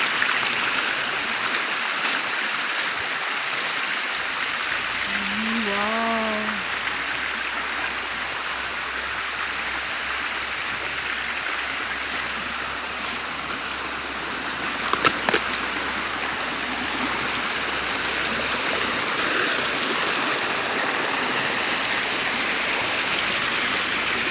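Water flows steadily on a farm, a constant broad rushing wash that stays even throughout, with a brief voice-like sound early on.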